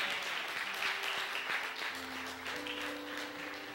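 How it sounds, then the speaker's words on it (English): Congregation clapping in a church, a soft continuous patter of hands from the room with some faint voices and a sustained tone underneath, moderate and fairly distant. "we can give her a hand clap anyway"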